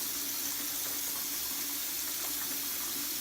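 A bathroom tap runs steadily as water is left flowing to warm up before a straight razor shave, giving a constant close rushing hiss with no breaks.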